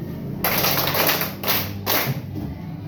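Hands clap together in a steady group rhythm, several broad bursts close by with short gaps, no voices over them.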